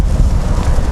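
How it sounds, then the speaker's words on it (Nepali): Cold wind blows across the microphone outdoors, a loud, rumbling, gusty buffeting that fills the moment with no speech. "यतातिर चाहिँ चिसोकै साथीहरू चिसो हावा लाग्यो"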